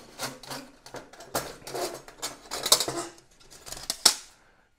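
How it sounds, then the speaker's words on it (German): A foldable titanium hobo camping stove is folded up, giving a series of close, sharp metallic clicks and clinks with light scraping between them, irregular and fairly loud. "Das ist ein Falt-Hobo-System."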